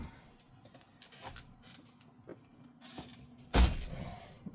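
A drill bit pressed into service as a chisel scrapes and creaks in scattered bursts, then a sharp loud strike rings out near the end.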